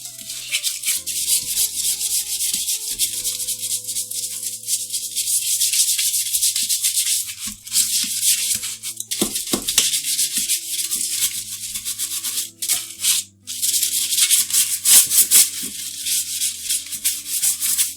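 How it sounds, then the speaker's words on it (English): A brush scrubs hard against a stained toilet bowl in steady, close back-and-forth strokes, harsh and bristly, with short pauses between bursts and no talking. "So we are just going to start scrubbing with our brush."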